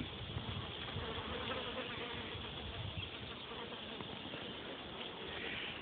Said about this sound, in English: these things are loaded with flies and bees. I don't know if you can hear them